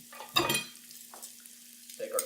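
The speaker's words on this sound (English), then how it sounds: "Scooch our garlic on in there. It's going to start to sizzle up a bit." Garlic sizzles in an oiled pan that held chicken, with a loud burst of frying and stirring near the start and softer crackles after it, alone without talk.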